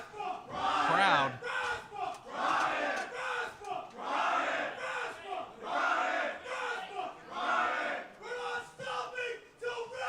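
A wrestling crowd gives a mixed reaction, loud cheers and jeers swelling and dipping in continuous waves of shouting throughout.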